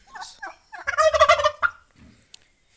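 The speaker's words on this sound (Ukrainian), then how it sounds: "Індик досить великий, має, може, десь 10-11 кілограм." A large turkey of about 10-11 kg gobbles loudly at close range, a rapid rattling burst preceded and followed by a few softer calls.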